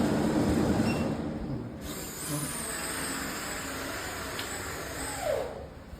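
Faber kitchen chimney exhaust fan running at top speed, a steady airy whoosh close by with faint clicks and a few brief squeaks over it.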